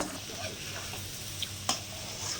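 Egg stir-fry is stirred in a pan over high flame, sizzling steadily at close range, with a few light scrapes and clinks from the stirring and no voices.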